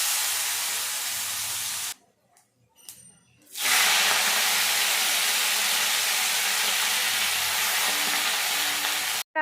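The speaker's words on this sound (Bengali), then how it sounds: "আজকে একটুখানি করলা ভাজা করব" Bitter gourd fries in a blackened steel kadai with a loud, steady sizzle that briefly drops away and then surges back just as strongly.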